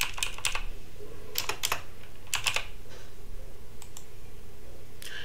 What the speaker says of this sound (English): Now that we have selected the correct font, we will begin to type our words.